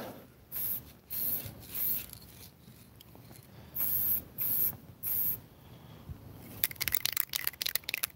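Taxi cab yellow spray paint hissing from an aerosol can in repeated short bursts, each spray lasting about a second with brief pauses between, followed by a flurry of sharper scraping and rattling sounds at the end.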